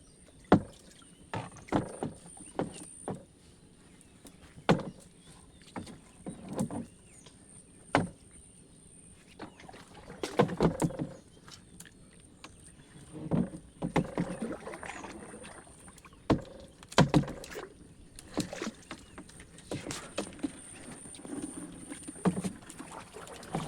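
A wooden rowboat moves on water with irregular knocks, splashes and wooden creaks spread over the stretch, some sharp and loud, against a quiet background and a faint steady high hum.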